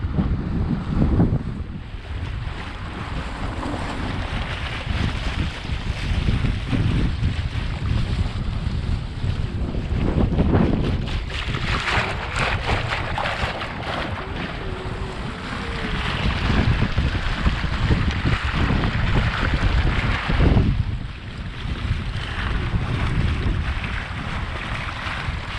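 An ePropulsion Spirit 1.0 Plus electric outboard pushes a dinghy along at a quicker speed, its quiet motor buried under steady wind buffeting and water splashing against the hull, with no talking.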